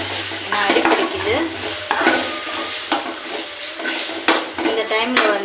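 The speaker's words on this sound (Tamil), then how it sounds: "நல்லா வதக்கிக்கலாம். ஸ்லோவில் வச்சுக்கலாம், ஏன்னா அடி பிடிக்குது." Soya chunks gravy base sizzling and frying slowly in a pan, with repeated scraping strokes of a spoon stirring it, steady and close with no talking.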